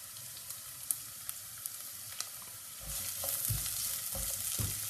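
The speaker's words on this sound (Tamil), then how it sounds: "ஆயில் நல்லா சூடானதுக்கு அப்புறமா நீங்க அதுல வெங்காயம் சேர்க்கலாம்." Onions hit hot oil in a pan and fry with a steady, close sizzle that swells louder partway through, with a few soft clinks of stirring and no talking.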